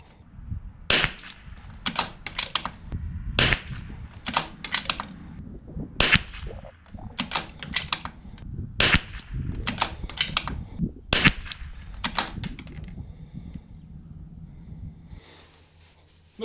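A custom .22LR rimfire rifle fires a string of sharp, cracking shots outdoors, about a dozen reports at irregular intervals over a constant low background rumble, with sparse, muffled voices in between.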